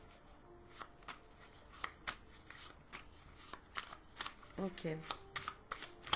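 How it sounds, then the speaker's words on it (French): Tarot cards shuffled by hand, a run of crisp riffling flicks and taps in uneven bursts, close and moderately loud, with one short spoken word near the end. "Qu'est-ce que je peux tirer d'autre comme carte?"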